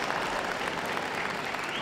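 Audience applause at the Manchester 2017 dog show after the Terrier Group win, a steady dense wash of clapping filling the hall throughout, moderately loud with no clear talk over it.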